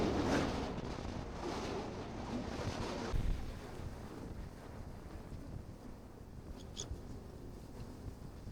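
Strong wind gusts across the Fraser Coast, a sand island in Queensland, Australia, buffeting the microphone with a loud, continuous rumble that eases slightly partway through and carries faint surf-like noise, with no talking.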